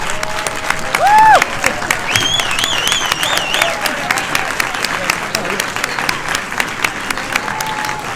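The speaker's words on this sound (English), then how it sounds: "give a round of applause to the cast of Maestro" A studio audience gives the cast of Maestro a loud, sustained round of applause with scattered whoops and cheers, heard close throughout.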